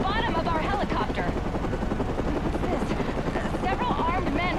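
A hovering news helicopter in a Batman game beats steadily with loud rotor thumping, while a reporter talks over it and faint gunfire-like bursts mix in.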